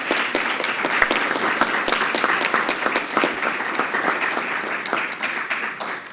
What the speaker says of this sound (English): give you a round of applause for your efforts